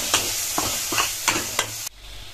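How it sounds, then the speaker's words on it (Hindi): Mashed roasted eggplant bharta is stirred into sizzling masala in a pan, several scraping spoon strokes over a soft frying hiss, close and loud, ending abruptly. "और अब इसे मैश करने के बाद हम इस मसाले में डाल देंगे और अब इसे इस मसाले में अच्छी तरह से मिक्स करना है"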